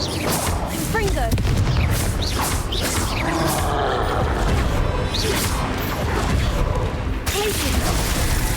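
Spell blasts and impacts from Hogwarts Legacy combat, the Confringo fire spell among them: repeated booms, crashes and whooshes in quick succession under frequent voices shouting spell names.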